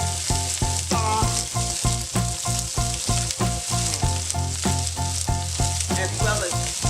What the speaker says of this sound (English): And you want to saute this on extremely high heat